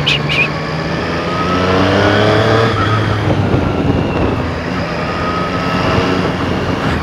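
Triumph Street Triple 765 R motorcycle ridden through everyday city traffic in Argentina, its engine a steady droning hum with a rising and easing pitch under wind noise and the sound of surrounding vehicles.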